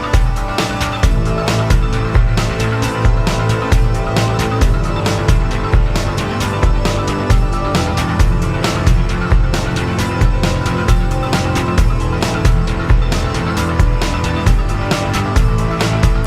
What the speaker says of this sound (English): we built a bass patch on the Taiga